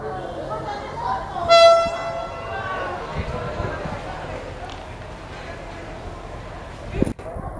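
A brief, loud horn blast sounds early over rumbling railway station noise at Tuntang station, with people talking throughout.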